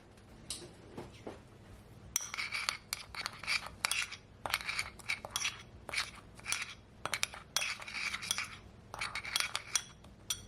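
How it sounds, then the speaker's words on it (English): Olive oil and seasoning are blended together with a metal utensil in a bowl, giving quiet, rapid clinking and scraping strokes in an irregular rhythm. "And my seasoning, I'm gonna blend it all together."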